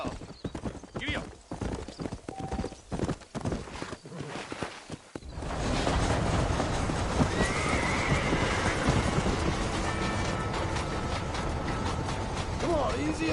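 A horse-drawn wagon in the video game Red Dead Redemption heads out of town, with steady hoof clip-clops, a whinny and rolling wheel and harness noise, after a stretch of speech and other sounds, loud and close.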